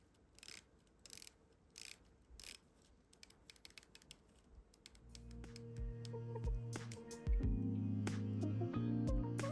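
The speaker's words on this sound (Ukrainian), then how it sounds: "Він односпрямований на 120 кліків." A Seiko Prospex Samurai PADI Special Edition SRPL53K1 dive watch's unidirectional 120-click bezel, with an anodized aluminium insert on a 316L stainless steel case, gives several short bursts of close, crisp clicks before music swells underneath.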